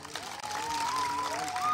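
Applause from an audience at a Home Minister Khel Paithanicha game-show event in Pawananagar, a continuous wash of clapping and crowd noise throughout, with a voice speaking over it.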